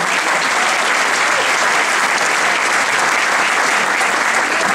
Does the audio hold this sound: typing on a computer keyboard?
no